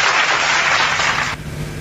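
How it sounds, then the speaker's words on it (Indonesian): A debate audience breaks into applause, a dense burst of clapping that holds for over a second and then cuts off sharply, with no voices. "Memang patut harus diberi tepuk tangan karena memang itu salah satu bentuk penghormatan"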